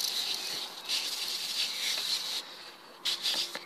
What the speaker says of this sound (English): So it's time to give this one a little spray.